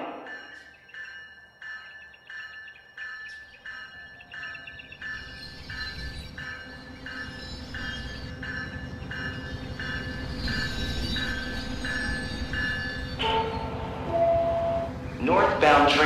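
Train arriving at Deerfield Beach station in the Rail Sim Universe game, steady rhythmic wheel clicks over a low rumble that builds louder, with high squealing and a brief horn-like burst near the end as it pulls in.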